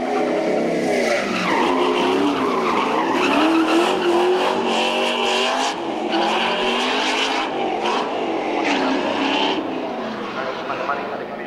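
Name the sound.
V8-powered Mazda RX-7 race car driving street circuit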